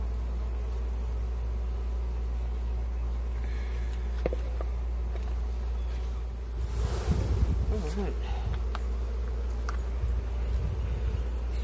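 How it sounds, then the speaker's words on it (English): Honeybees from a rescued abandoned hive buzz steadily and close during a honey harvest, a continuous hum that thickens with some rustling and handling noise partway through. "Trying to do it without hurting those bees that are on it."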